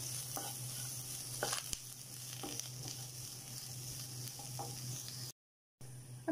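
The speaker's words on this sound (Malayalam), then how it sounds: "രണ്ട് ടേബിൾ സ്പൂണ് തേങ്ങയും കൂടി ചേർത്ത് കൊടുക്കാം നന്നായിട്ടൊന്ന് മിക്സാക്കി കൊടുക്കാം" Grated coconut and turmeric stirred into a hot pan for broken wheat uppuma, a steady low sizzle with a few scraping strokes of a spoon, close and quiet, cutting out briefly near the end.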